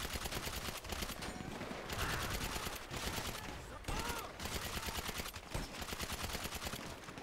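Dense, continuous gunfire rattles through a firefight in GTA 5 Online, bursts of automatic weapons overlapping with barely a pause, loud and close throughout.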